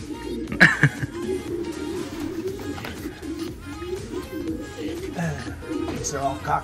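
Pigeons coo steadily in a loft of racing birds, low rolling calls running throughout beneath nearby conversation, with a brief sharper flutter or knock near the start.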